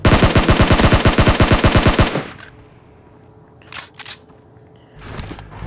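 Automatic gunfire in the video game PUBG while shooting at a bot, a loud rapid burst of rhythmic shots for about two seconds, then quiet with a few faint hisses and rustles.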